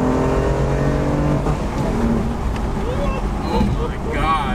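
BMW F82 M4 engine pulling hard in third gear on a dyno, a loud sustained roar that climbs steadily in pitch, with wind-like rush and people talking over it.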